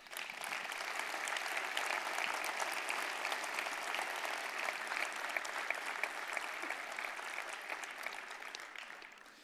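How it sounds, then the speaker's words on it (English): Audience applause at the EVE Fanfest opening ceremony, dense sustained clapping from a large crowd for nearly ten seconds, steady and slightly fading at the end, heard from a distance with no voices. "Please give yourselves a great applause."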